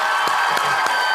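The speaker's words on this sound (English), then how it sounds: "He's just clapping" A person claps their hands about four times in a slow, even rhythm over a steady background hum.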